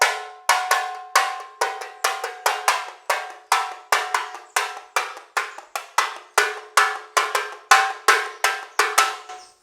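A bright metallic percussion instrument, cowbell-like, struck repeatedly with drumsticks in a steady rhythm of about twenty sharp hits, each ringing and decaying quickly, close and clear with no talking.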